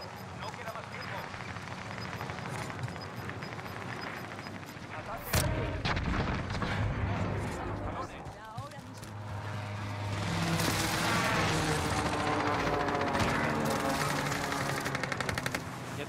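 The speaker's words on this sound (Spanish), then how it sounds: "Me disparan de atrás." Call of Duty firefight: sustained machine-gun and submachine-gun fire with booming impacts, a loud continuous din throughout, several players talking over it in Spanish.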